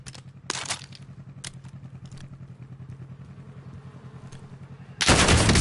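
Video game gunfire in an online multiplayer shooter, rapid automatic bursts ticking over a low rumble, then a sudden loud close blast at the end.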